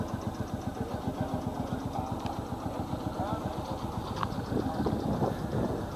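Old farm tractor engine from Belgium chugging steadily at a low idle, a close rhythmic pulsing throb that continues throughout, with faint outdoor background noise.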